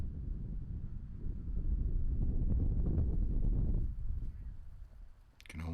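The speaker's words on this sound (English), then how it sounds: "You can hear that wind." Wind buffets the microphone on an open disc golf course during a tournament round, a low rumbling roar that swells and fades over several seconds.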